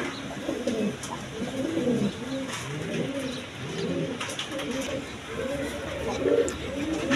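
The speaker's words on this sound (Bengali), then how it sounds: "এই দেখেন একদম ডাউন ফেস রানিং কবুতর" Down-face running pigeons coo in repeated low, throaty rolls, several birds overlapping at close range in a steady chorus.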